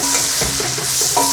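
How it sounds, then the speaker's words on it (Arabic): Beef frying in a pot with bay leaves, cinnamon stick, salt, cumin, paprika and turmeric, stirred with a spoon: loud close sizzling with repeated scraping strokes and no talking. "نقلب في اللحمه لغايه ما تاخد اللون البني"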